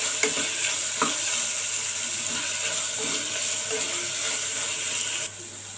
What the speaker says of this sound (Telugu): ఫ్రెష్గా దంచి పెట్టుకున్న అల్లం వెల్లుల్లి పేస్ట్, మీడియం ఫ్లేమ్లోనే ఉంచుకుంటూ ఫ్రై చేయాలండి